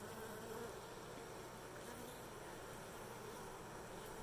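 A steady, dense hum of many honeybees fanning at a hive, continuous and even throughout, with no voices.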